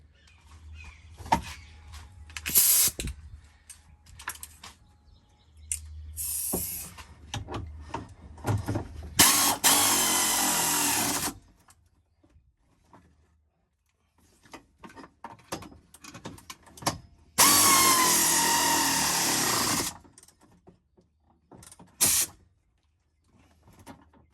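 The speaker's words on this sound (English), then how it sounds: "we're going to put our nuts back in and torque them to spec" A ratchet tightens the seat nuts to torque spec on a Can-Am X3 while a battery jump post kit is installed. Two long, loud bursts of rapid ratcheting stand out among scattered nearby clicks and handling noises.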